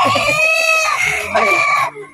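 A rooster crows loudly and close by, then clucks, in one short burst with faint background voices.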